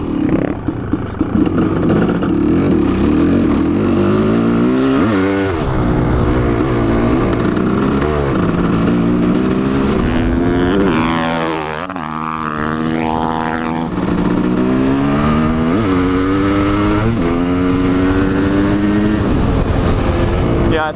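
KX500 two-stroke and KX450F dirt bikes roar loudly through repeated upshifts, their pitch sweeping up and dropping as they race, with voices heard at times.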